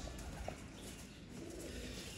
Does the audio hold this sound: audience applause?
no